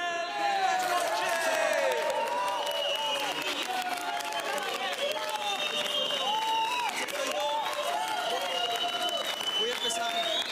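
Applause and cheering from a nightclub crowd welcoming a DJ in a telenovela party scene, sustained clapping mixed with whoops, chatter and music-like tones throughout.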